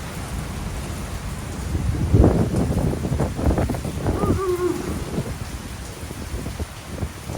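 Heavy rain with rumbling thunder during a lightning storm in Puerto Vallarta in summer, a steady loud downpour with a deeper roll building around the middle.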